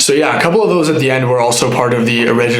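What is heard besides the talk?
None of the usual background noises is heard.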